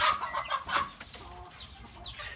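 Laying hens in a small backyard flock cluck in short, busy bursts, several birds overlapping close by, fading to quieter scattered clucks toward the end.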